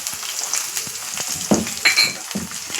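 Broad bean seeds fry in a pan with a light, uneven sizzle and a few sharper crackles and stirring scrapes, close and moderately loud.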